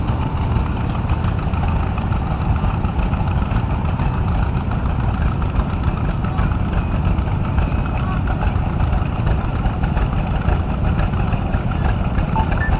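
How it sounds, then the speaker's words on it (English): A 1954 Farmall Super H tractor at a hometown show runs with a steady, rumbling low engine note that holds constant throughout, loud and continuous with faint background noise. "Next up we have Jeff Fryman on a 1954 Super H Farmall from Paris, Kentucky."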